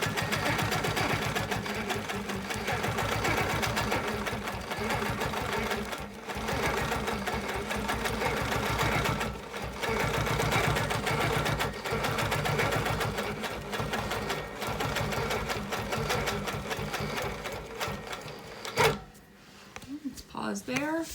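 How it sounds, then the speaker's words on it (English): Quilting on a sewing machine, stitching a wholecloth quilt along a ruler: a continuous rapid mechanical whir of needle strokes runs close and steady throughout, stopping briefly near the end, with a voice talking over it. "I'm going to stitch all the way to my red tape"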